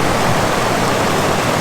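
Rushing water from a waterfall on a steep night hike, a loud, dense, continuous roar that fills the whole moment with no voices.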